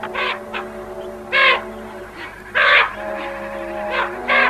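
A crow caws several times in harsh, rasping bursts spaced about a second apart. The calls are loud and close over a low outdoor hum, and no one speaks.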